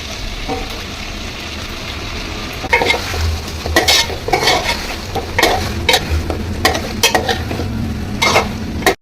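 Chicken pepper fry sizzles in a pan while being stirred, a continuous frying hiss with repeated close scraping and clattering strokes of a utensil against the pan, no voices.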